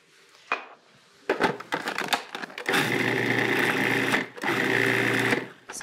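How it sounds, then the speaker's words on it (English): A food processor pulsing dry ingredients with butter for crackers: short bursts of blade whirring, then longer sustained runs of loud motor buzzing with brief pauses between them. "put your dry ingredients into your food processor first, pulse it a few times, then add your butter"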